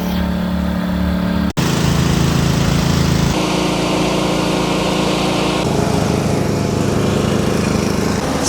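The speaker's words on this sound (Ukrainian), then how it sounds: "всі кіоски на генераторах. Все дрищить, все працює." Portable generators drone loudly at street kiosks in Kyiv during a power outage, a dense continuous engine hum with overlapping tones that shift as different units come near, heard up close with no talk.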